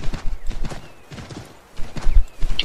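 A horse's hooves clip-clop in the Assassin's Creed III video game, a brisk close rhythm of hoofbeats that briefly thins and then picks up again with heavier thuds.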